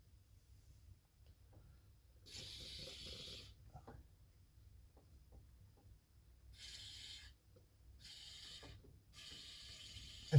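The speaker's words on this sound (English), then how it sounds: "If you're wondering what I'm spraying down here, it's called GT85." A can of GT85 aerosol lubricant is sprayed in four short, soft hissing bursts, faint and close, with quiet pauses between them.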